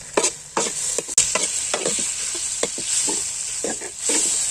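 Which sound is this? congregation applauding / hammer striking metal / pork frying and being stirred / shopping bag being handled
pork frying and being stirred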